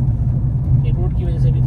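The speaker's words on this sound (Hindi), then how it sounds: "हाँ रोड टायर की वजह से आ रही है, रोड थोड़ा सा वैसा है, ईटो वाला रोड, इंटरलॉकिंग जो बोलते हैं" Low road rumble and tyre drone from inside a Tata Nexon iCNG cabin while driving over an interlocking brick road, a steady close hum that holds level throughout.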